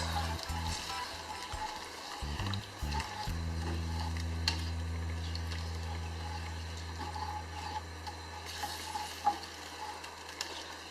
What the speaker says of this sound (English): get a really good stir, get all the sticky bits off the bottom of the pan